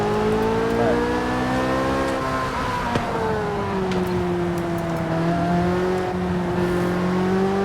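Car engine in Forza Horizon running a sequential transmission, humming and revving with smooth gear-change steps as the pitch rises and falls, steady and close with no one talking.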